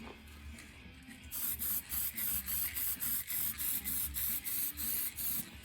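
Rhythmic bursts of spray coating a copper head gasket, about a dozen short even pulses in steady succession, close and fairly loud after a brief quiet start, with no talking.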